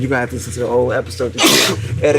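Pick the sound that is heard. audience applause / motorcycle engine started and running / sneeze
sneeze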